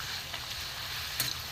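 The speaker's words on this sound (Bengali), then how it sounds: "একটু লাল হোক, একদম গ্যাস কমিয়ে ভাজতে হবে" Gobindobhog rice pitha frying gently in oil over a low gas flame, a soft, faint continuous sizzle with a few small pops near the end.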